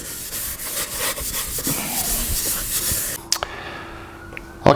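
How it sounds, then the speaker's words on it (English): Fine Scotch-Brite pad scrubbing the inside of an Austin Healey rear guard, fast rough rubbing strokes close up that stop after about three seconds, followed by a few light taps and handling noises. "Okay, I Scotch-Brited,"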